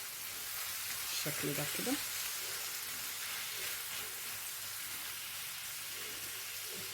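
Eggplant with mixed vegetables cooking in a pan, a loud, even sizzle hissing throughout, with a short stretch of a voice speaking early on.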